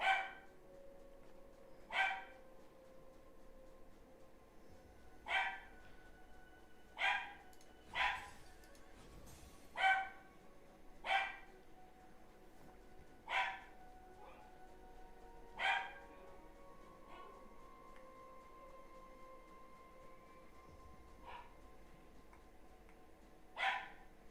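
A single dog barks in sharp, isolated yips spaced a few seconds apart, fairly close in an otherwise quiet room with faint background hum.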